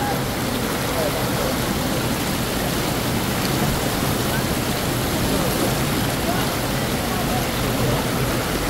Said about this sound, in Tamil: சும்மா ஆர்ப்பரித்து ஓடுகிறது அருவி